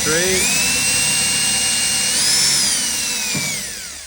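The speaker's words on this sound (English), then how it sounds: "Let the bit do the drilling for you." A power drill drilling out spot welds whines loudly and continuously, its pitch rising briefly then settling before winding down near the end.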